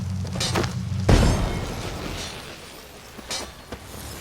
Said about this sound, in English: I'm throwing some bombs.